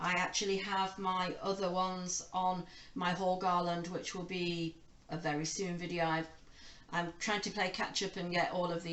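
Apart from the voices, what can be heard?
No everyday noises stand out.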